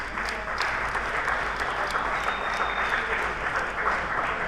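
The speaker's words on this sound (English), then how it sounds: "Let's get Shane a round of applause" An audience at an RC competition claps steadily and evenly throughout, a dense, moderately loud round of applause with no speech over it.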